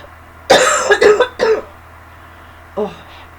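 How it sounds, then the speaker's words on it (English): A burst of several harsh coughs close to the microphone, followed after a short pause by one more cough. "I still have the coughs"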